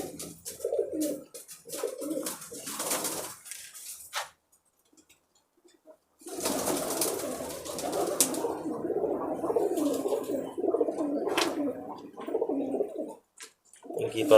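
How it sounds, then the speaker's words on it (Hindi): Home-bred Teddy high-flying pigeons coo in low, throaty bursts, pausing briefly into near silence before a longer, denser stretch of continuous cooing. "ये टैडी कबूतर है, ये भी होम ब्रीड है"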